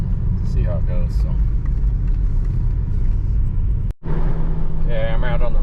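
A VW TDI 2.0 ALH diesel fitted with a carbon fiber exhaust stack drives on a main road, its steady low rumble continuous and close, with a brief dropout near the end and a person talking over it.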